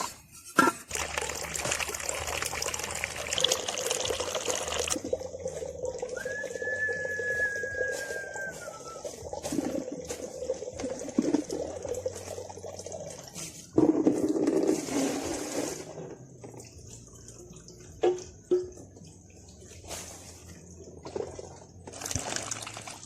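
Water is fetched and poured outdoors at a roadside food stop where coconuts and bananas are being cooked, with intermittent trickling and splashing that comes and goes over about twenty seconds.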